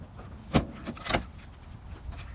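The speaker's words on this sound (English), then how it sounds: "So Promaster doors, they open a couple ways." Rear doors of a Ram Promaster van swinging open, two sharp metallic clunks of latches and hinges about half a second apart, followed by softer rattles, close by.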